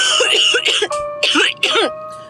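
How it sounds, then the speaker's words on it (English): A woman coughs heavily at close range, several harsh, rasping bursts in quick succession, broken by short pauses, as though stifled behind a hand. "starts coughing heavily. Her hand hastily goes over her mouth to stifle the sounds"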